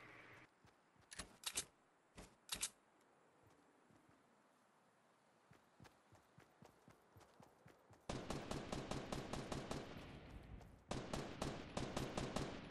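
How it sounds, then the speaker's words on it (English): Video game gunfire rings out in a battle-royale match, with a few sharp shots early, then sustained rapid automatic bursts near the end, loud and close with no talk over it. "Who's shooting you?"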